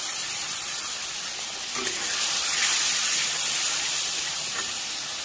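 Water is poured into fried spice paste in a hot pan, and a broad steamy hiss swells and then holds steady for several seconds. No one speaks.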